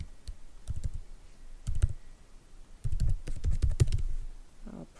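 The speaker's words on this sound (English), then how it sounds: "I'll probably just type in that it's under construction here as well" Keys clatter on a computer keyboard while text is entered into a WordPress site setup, coming in short bursts of quick clicks separated by pauses, close and fairly quiet with no one talking.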